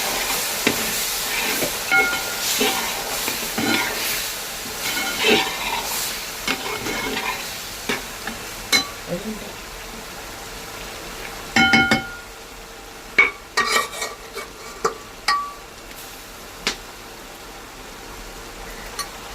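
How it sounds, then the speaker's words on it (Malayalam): Homemade Kerala-style liver roast simmering in spiced masala gravy over low heat, with a soft continuous sizzle and bubbling, and intermittent sharp scraping clicks of stirring that grow sparse toward the end. "ചെറിയ തീ കിടന്നിട്ട് ഈ ചാറൊന്ന് വറ്റി മസാലക്കൊന്ന് ലിവറിൽ പിടിക്കട്ടെ."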